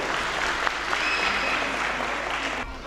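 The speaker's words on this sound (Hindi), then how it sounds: "तालियां जरूर बजाए।" Dense, sustained applause fills a Himalayan school function hall, an even crowd clapping for the full stretch before tapering off near the end.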